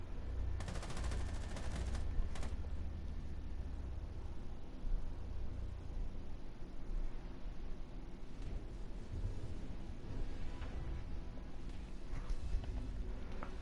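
Pre-firing in a competitive first-person shooter match: quick bursts of gunshots ring out amid steady game background noise, moderately loud and echoing, with a cluster of shots near the start and more scattered reports later.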